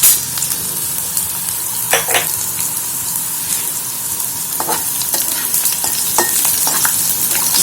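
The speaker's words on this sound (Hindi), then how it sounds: "अभी तेल जैसे गरम हो जाता है तो हम गार्लिक डालेंगे।" Garlic frying in hot oil in a kadai for dal tadka, giving a loud, continuous crackling sizzle close up, with occasional stirring scrapes and no talk.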